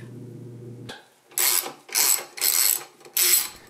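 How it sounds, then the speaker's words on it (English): Ratcheting clicks from a speed wrench spun on bolts while working on a John Deere 755 tractor, four close bursts of quick mechanical clatter after a short low hum. "Here's my speed wrench."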